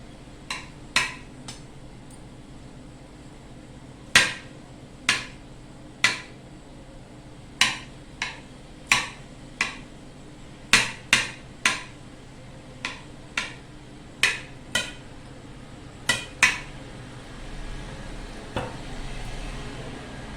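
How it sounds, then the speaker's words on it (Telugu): Knife chopping dragon fruit into small pieces on a board, about twenty crisp separate taps at an uneven pace, close and clear with no talking. "ఇప్పుడు మీరు దీన్ని చిన్న చిన్న ముక్కలుగా కట్ చేసుకుంటే, ఇలా చిన్న చిన్న ముక్కలుగా కట్ చేసుకొని"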